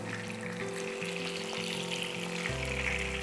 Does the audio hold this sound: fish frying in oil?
yes